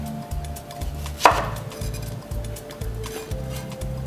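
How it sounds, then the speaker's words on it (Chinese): A knife chops through an onion on a board, cutting it into thick strips with a steady run of regular rhythmic thuds, close and clear, with one sharper louder knock partway through. "我哋就將個洋葱切成一個厚啲嘅絲"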